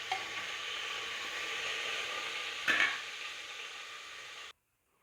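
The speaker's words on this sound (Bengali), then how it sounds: "আলুটাকে ভালো করে লাল লাল করে ভেজে নেব।" Potatoes fry in hot oil for restaurant-style mutton kosha, a steady close sizzle with one brief stir or clatter, then it cuts to silence just before the end.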